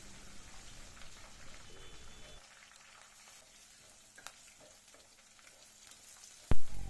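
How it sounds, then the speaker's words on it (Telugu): A handful of cashews frying in oil until golden brown gives a soft crackling sizzle that thins out partway through, ending with a sharp clatter. "ఇప్పుడు ఇందులోకి ఒక 10 నుంచి 12 వరకు జీడిపప్పును కూడా వేసుకొని వీటిని కూడా గోల్డెన్ బ్రౌన్ కలర్ వచ్చే"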